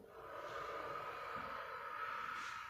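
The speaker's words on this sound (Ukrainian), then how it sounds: "Носиком вдох. Повільно видих ротиком." A steady, close breath drawn in through the nose and let out slowly through the mouth during a warm-up exercise, a continuous airy rush filling the whole moment with no talking.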